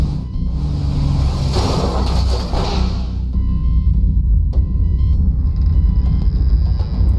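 A car in The Darkside Detective game pulls away, a loud low rumble with a rushing swell that fades after a few seconds into a quieter steady hum.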